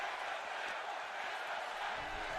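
A wrestling arena crowd in the WWE 2K23 video game roars steadily, a dense, continuous wash of cheering that fills the whole stretch at an even level.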